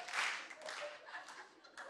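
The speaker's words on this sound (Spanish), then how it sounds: "Son ellos los que están aplaudiendo." A studio audience at the Sábados Felices comedy show claps briefly and faintly, a soft patter of hands behind a voice.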